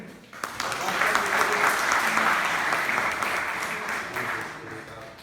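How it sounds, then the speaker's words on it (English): An orientation-day audience at CPJ College applauds a student named Abhishek as he accepts an award, a dense, steady wash of clapping that swells quickly and holds loud for several seconds before tapering slightly. "A clap for him."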